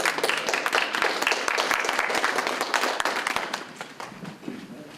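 Audience applause at a 7th Congressional District candidate forum, a steady burst of many hands clapping in a hall that gradually fades toward the end, with no talking over it.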